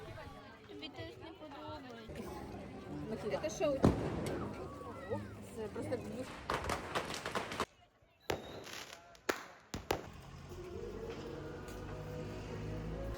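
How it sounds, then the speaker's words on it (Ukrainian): Firecrackers and fireworks go off during a street festival in Barcelona, with several sharp, loud bangs and crackles scattered over constant crowd chatter and nearby voices. "всюди запускали петарди, хлопушки, салюти"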